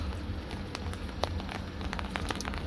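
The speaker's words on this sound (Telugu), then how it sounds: "చూసారు కదా వర్షం ఎలా వస్తుందో" Steady rain in Dubai pattering on a surface, with scattered louder drops over a low continuous hiss; no voices.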